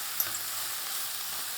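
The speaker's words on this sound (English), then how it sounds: "So you can see that these mushrooms are starting to cook down a little bit." Mushrooms sizzle in a pan on the stovetop, a steady soft hiss of frying with a faint clink near the start.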